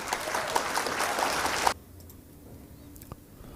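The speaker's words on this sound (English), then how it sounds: "Shorty applause again by Mike." A short burst of clapping from a small group at a pool challenge match lasts under two seconds and cuts off abruptly, followed by quiet room tone.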